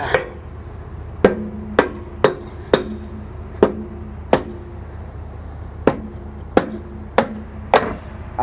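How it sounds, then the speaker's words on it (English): A hammer bangs on a truck trailer's metal door about a dozen times at an uneven, unhurried pace, each sharp clang ringing briefly in a quiet space. "this is the trailer with the doors I have to bang with the hammer"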